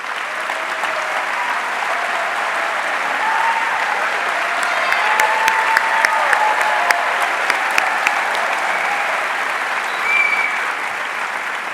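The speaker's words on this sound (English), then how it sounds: "let's give them a round of applause" Sustained applause from a commencement audience honoring kinesiology faculty and staff, a steady dense clapping that fills the room at even loudness with a few sharper claps standing out, and no talking over it.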